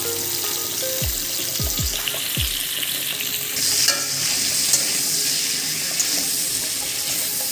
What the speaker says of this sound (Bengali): একটু নুন আর একটু হলুদ দিয়ে দিলাম হালকা করে ভেজে নেব